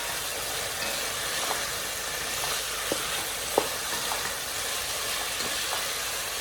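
Crispy chilli beef stir-fried in sauce in a pan gives a steady, close sizzle with soft stirring scrapes and a few light clicks of a utensil against the pan.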